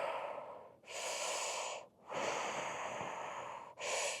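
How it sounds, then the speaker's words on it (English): Three slow, deep breaths drawn and released during a fascial movement exercise, each long airy exhale close and audible with brief pauses between, no talking. "Breathing into tension."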